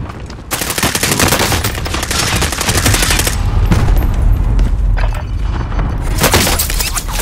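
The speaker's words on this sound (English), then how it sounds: "Taking effective fire!" Dense automatic gunfire from Call of Duty: Modern Warfare, loud bursts of rapid shots with booming impacts running almost nonstop, briefly easing around the middle before firing picks up again.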